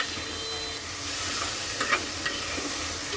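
Diced onions and green chillies frying in oil: a close, even sizzle with a few light scrapes and clicks of stirring over it.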